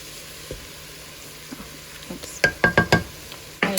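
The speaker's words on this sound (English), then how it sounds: "So now we're gonna get this cooking and sauteing it for 8 minutes." Diced rutabaga and other vegetables for tomato soup sizzle steadily in a pot, faint at first, then a quick run of sharp stirring clacks and scrapes near the end.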